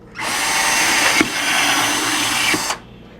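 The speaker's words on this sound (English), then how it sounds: "I'm going to start drilling my holes from here." A power drill with a 1/4-inch bit bores a hole through a plastic bucket, a loud, close whine that starts abruptly, holds steady with a brief catch midway, and stops cleanly.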